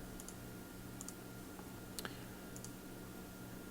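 Crisp mouse clicks while working in Lattice Diamond software, a handful of sharp isolated clicks spaced about a second apart over faint room hum.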